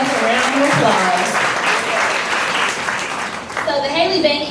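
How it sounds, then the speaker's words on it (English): An audience at a charity event claps and cheers in sustained, dense applause, with a person's voice speaking over it and continuing as the clapping thins out. "Give yourselves a round of applause."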